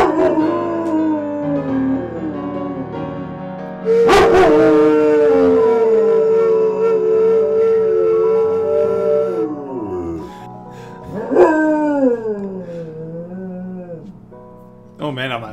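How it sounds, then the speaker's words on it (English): A dog howls and whimpers in long wavering tones along with flute playing indoors, sustained notes and yips trading back and forth up close for several seconds. "especially if it makes the dog decide to do a duet with me"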